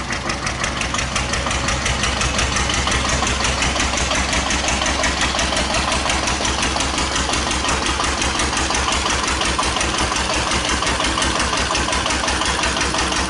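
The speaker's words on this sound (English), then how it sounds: "And we'll put it back on, one step." A 1941 Witte single-cylinder diesel generator plant chugs on after its load is reapplied in one step. A governor with worn linkage makes the loud, close, steady knocking exhaust beat hold through the clip with no voices.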